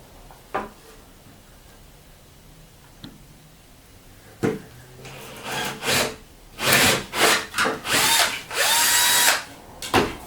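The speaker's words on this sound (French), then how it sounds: "Alors je vais également faire un trou" A power drill bores a hole in wood, starting with a few short bursts and building to repeated louder whirring pulses toward the end, close and alone.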